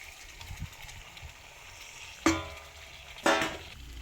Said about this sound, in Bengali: মশলা দিয়ে আলু আর গাটি কচুটা কষানো হয়ে গেছে